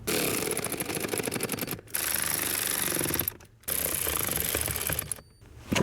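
A power tool runs in rapid rattling bursts, driving fasteners into the plastic housing of a Toyota Sienna blower motor, three close, loud runs separated by brief pauses.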